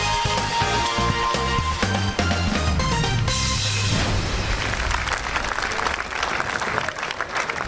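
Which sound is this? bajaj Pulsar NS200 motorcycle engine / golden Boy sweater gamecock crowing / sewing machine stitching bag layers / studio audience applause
studio audience applause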